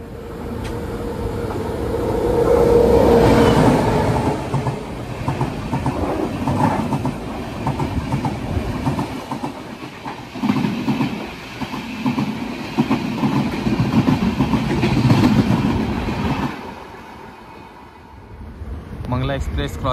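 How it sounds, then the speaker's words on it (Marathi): A passenger train rumbles past at Rajapur station while crossing the Mangala Express, with rolling clatter and wheel clicks that swell and fade over about twenty seconds, heard from on board. "राजापूर स्टेशनला येलो आणि क्रॉसिंग लागला आपल्या 2 ट्रेनचा क्रॉसिंग असा."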